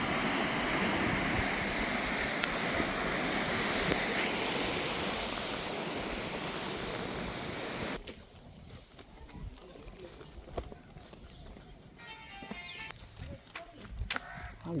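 Sea waves wash in below the fort at Diu with a broad, continuous roar for several seconds, then the surge fades to a quieter hiss broken by scattered clicks and knocks.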